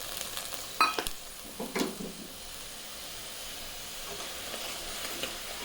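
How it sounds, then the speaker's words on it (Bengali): Onion paste fries in a pan for pabda fish curry, a few clattering scrapes at the start giving way to a soft, steady sizzle, quiet and close. "আমি পেঁয়াজ পেস্টটা অ্যাড করে দিলাম। ভালো করে কষিয়ে নেব।"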